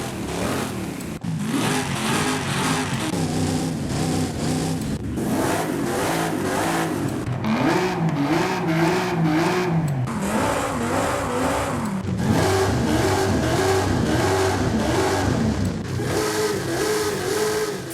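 Car engines in the racing game Forza Horizon 5, cycled through as engine swaps for a front-wheel-drive Toronado, rev in loud, repeated bursts with rising and falling pitch, one engine after another with brief breaks between.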